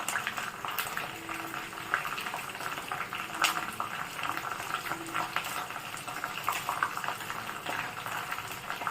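Herbs and hibiscus leaves sizzle and bubble in hot oil for hair tonic, a continuous crackling fry with occasional sharper pops, close and steady throughout.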